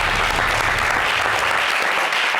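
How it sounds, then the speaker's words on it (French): A studio audience at a French-language TV variety show applauds steadily, a dense and fairly loud wash of clapping from start to finish with no talking over it. "On applaudit, merci."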